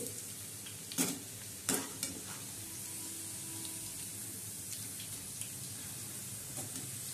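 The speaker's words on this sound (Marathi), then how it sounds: "हे बघा भजी मस्तपैकी होऊ राहिले." Onion bhaji fry in hot oil with a quiet continuous sizzle, broken by a few sharp scraping clicks from a spoon near the start, on a faint steady background.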